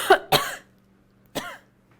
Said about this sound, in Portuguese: É só uma tosse, bem rapidinho.